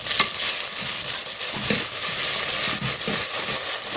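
Onions and fenugreek seeds sautéing and browning in a pan for a dried-fish curry, with a steady close sizzle and repeated scraping stirs throughout, no talking.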